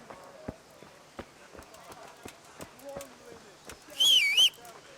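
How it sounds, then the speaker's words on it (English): A short, wavering melodic whistle rings out near the end, loud and close, in the medieval game Kingdom Come: Deliverance by a sheepfold, over steady soft footsteps that run throughout. "Didn't mean to whistle."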